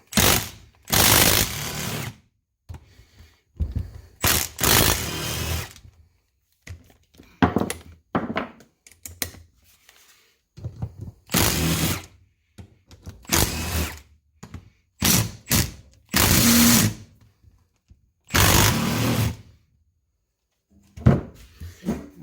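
Ratchet and hand tools working the bolts off a Honda Rancher 420 ATV front differential: loud, close bursts of rapid clicking and metallic clunks in irregular bouts, separated by short silences.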